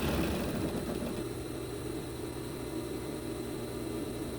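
An overlock serger sews the armhole seam of a knit blouse, giving a steady, close, whirring mechanical drone with a fine rapid rattle, continuous throughout without pauses.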